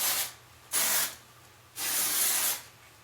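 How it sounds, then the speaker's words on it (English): Heat protector spray misted onto a section of hair during vintage wave styling, three sharp hissing bursts from a pump bottle, the last one longer, each separated by a brief quiet gap. "spray that with a little bit of the heat protector spray"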